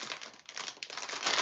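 Plastic LEGO parts bag crinkling and tearing open close to the microphone, a continuous rustle of about a second and a half, with no voices.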